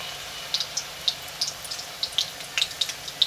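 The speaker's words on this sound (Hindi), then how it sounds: "भिंडी को भिगो ली और इस तरह से गरम तेल में डाल दिया है" Battered okra pakora pieces frying in hot oil, with scattered sharp crackles and pops over a soft steady sizzle, close and fairly loud.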